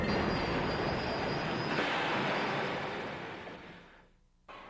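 A train rumbles past as a loud, steady broadband roar with a thin high squeal on top, then the noise fades away and drops off sharply near the end.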